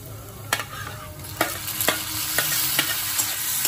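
Onions and crushed tomatoes fry in a pan with a steady close sizzle, punctuated by several sharp spoon scrapes and clicks as the mixture is stirred.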